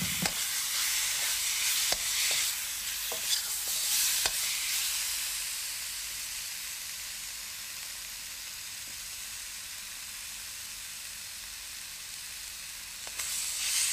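Steady, close sizzling of chicken frying in a hot wok, with a few sharp scrapes and clacks of stirring early on, then continuous hiss.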